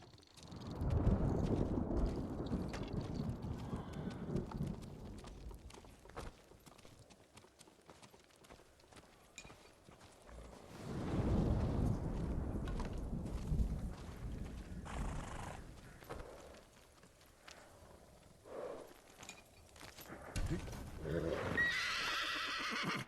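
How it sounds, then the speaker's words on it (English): Horses in Ghost of Tsushima whinny and snort amid shuffling, clopping hooves, with swells of activity in two main bursts and fainter rustling in between, moderately close. "Oh, we got a new horse?"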